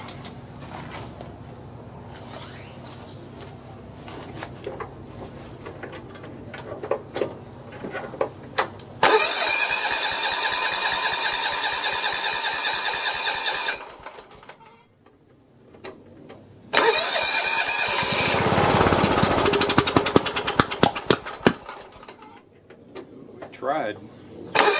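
A Kawasaki FC420V engine on a John Deere 170 lawn tractor cranks loudly on its starter for about five seconds, goes quiet briefly, then cranks again for several more seconds without catching.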